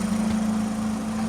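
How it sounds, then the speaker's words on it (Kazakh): A Volkswagen Touran 2.0 with a swapped-in DSG gearbox runs with a steady, even mechanical drone, heard alone at close range. "Мотор әдемі істеп жатыр."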